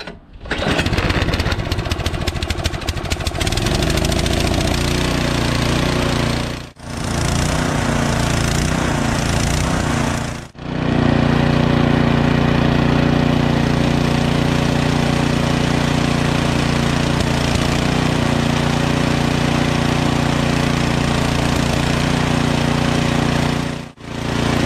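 A Troy-Bilt Storm 2620 two-stage snowblower engine runs loud and close on old gas mixed with fresh, a continuous mechanical roar broken by a few short drops in power.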